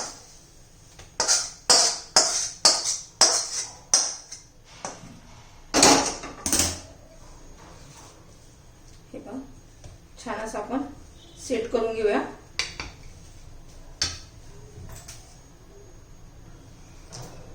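A sesame and jaggery mixture is scraped and scooped from a pan onto a ghee-greased plate, making a burst of rhythmic scraping strokes followed by scattered scrapes and knocks, with someone talking throughout.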